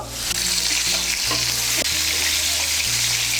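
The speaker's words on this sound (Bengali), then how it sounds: "মাছগুলোকে লাল করে ভেজে নেব" Chili-powder-marinated fish pieces fry in hot oil for a Bengali macher patla jhol, a loud, steady, dense sizzle that runs throughout, with a few soft utensil knocks and stirs, no talking.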